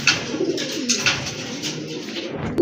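Pigeons offered for sale cooing up close, soft repeated throaty coos layered over each other for a few seconds with no voices.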